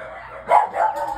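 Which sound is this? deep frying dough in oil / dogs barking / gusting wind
dogs barking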